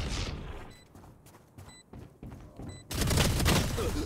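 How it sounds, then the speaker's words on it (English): Odin machine gun in the shooter Valorant, with scattered game sounds and faint voices giving way to a loud sustained burst of automatic fire near the end. "Reyna has Odin on spike"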